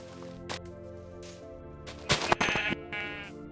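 Sheep bleating in the video game Minecraft, several short nasal bleats in a row, the louder ones clustered near the end, with no talk over them.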